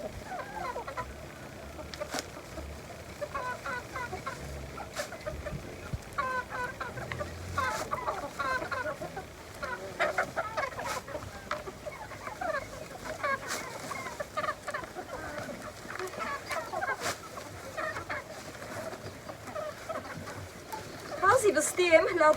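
Laying hens cluck steadily around a home coop, with soft irregular calls throughout and people talking over them, growing a little louder near the end.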